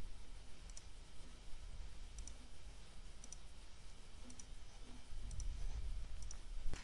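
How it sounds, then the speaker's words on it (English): Faint, sparse computer mouse clicks, single and double taps spaced a second or so apart over a low steady hum, with no talk. "Right click on tutorial and build."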